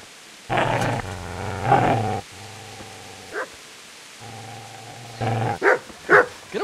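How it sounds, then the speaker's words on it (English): A dog in a medieval video game growls low and barks in several rough bursts, loud and close, with a few sharp yips toward the end and short quiet gaps between. "Get away, you mutt!"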